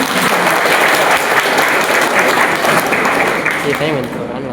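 An audience at a college engineering leadership event gives a loud, dense round of applause that holds steady throughout and eases slightly at the very end, with some voices mixed in.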